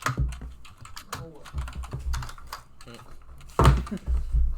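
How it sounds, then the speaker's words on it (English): Rapid clicking of a computer keyboard, a quick run of keystrokes in uneven bursts with a louder clack near the end, close and clear. "That's some real nice typing there"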